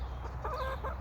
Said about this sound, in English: You're a good chicken.